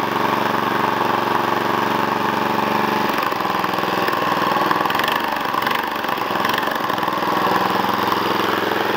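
An engine idles in a workshop with a loud, steady droning rumble that holds throughout, wavering slightly partway through.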